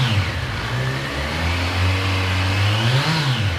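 A 2026 Kawasaki Z1100 SE motorcycle engine, still in its break-in period, revs up close and loud, its low steady drone rising and falling in pitch through one continuous pull.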